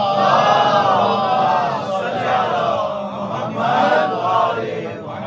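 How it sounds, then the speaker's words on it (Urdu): A mosque congregation at a mourning majlis recites salawat on Muhammad and his family in loud unison, a sustained rolling chant of many voices filling the hall. "صلوات پڑھیں محمد و آل محمد پر۔"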